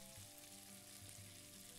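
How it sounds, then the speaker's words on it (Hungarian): Food sizzles steadily on a stove in the Octodad video game kitchen, a dense continuous frying hiss with low game hum beneath, short and fairly quiet with no talking. "Na jó van, ez sül."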